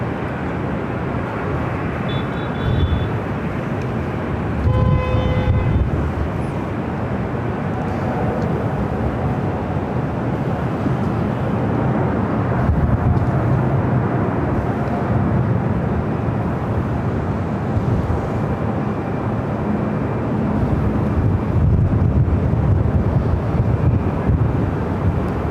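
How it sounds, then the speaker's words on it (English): A China Eastern Boeing 777-300ER takes off on the north side at LAX, its engines making a broad, steady roar heard from a distance, mixed with wind buffeting the microphone throughout. "got that 777-300ER, China Eastern, heading back to Shanghai, heading up for a north side takeoff"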